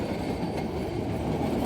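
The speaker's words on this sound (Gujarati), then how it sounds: "ટ્રેન કાયદેસર ભાઈ ચાલુ થઈ ગઈ છે" A passenger train rolling along, its steady rumble and rattle of wagons continuous and fairly close, with no voices over it.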